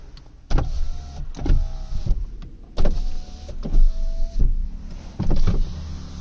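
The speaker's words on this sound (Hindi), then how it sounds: "चारों पावर विंडोज़ की वर्किंग आपको दिखाता हूँ। सबसे पहले ये पावर विंडो आप देख सकते हैं" Power windows of a 2018 Tata Tiago XZ car whirring up and down in repeated motor bursts, each a few seconds long with a clunk as the glass stops, close by with no talk.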